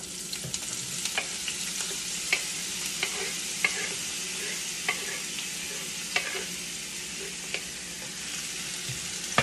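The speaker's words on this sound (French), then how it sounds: "Maintenant, je vais faire revenir la morue. Là, je mets les oignons." Onions sizzle in a hot pan for a salt cod dish, a steady frying hiss broken by light, regular taps and scrapes of stirring, close and moderately quiet.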